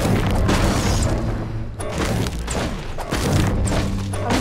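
A grenade goes off in a squad battle video game, with dense booming blasts and thuds layered over continuous loud game noise and rumble throughout.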